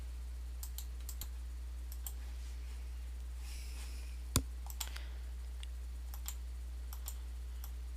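Soft, sparse computer mouse clicks come one at a time at irregular intervals over a steady low hum, with one sharper click standing out midway.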